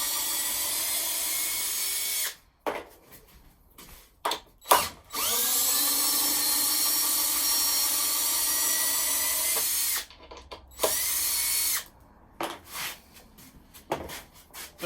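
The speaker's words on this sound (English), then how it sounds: "Simple matter of unscrewing the ladder." A cordless power drill backs screws out of a wooden ladder, with several sustained whirring runs of rising pitch broken by short pauses, clicks and handling knocks, close and fairly loud.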